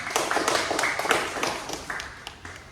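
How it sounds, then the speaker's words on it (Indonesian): A classroom of pupils gives a short burst of applause, many hands clapping together at close range before it thins out and fades after a couple of seconds. "Kita beri aplaus dulu untuk kita semua."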